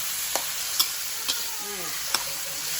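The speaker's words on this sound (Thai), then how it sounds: "แล้วก็คนหมูให้หมูสุกก่อน เราก็สุกแล้วเราก็ใส่เห็ดไปเลยนี่เราก็คนก่อน" Pork and straw mushrooms stir-fried together in a pan for a glass-noodle dish: a steady close hiss of sizzling with a few sharp clinks of a utensil against the pan, no talking.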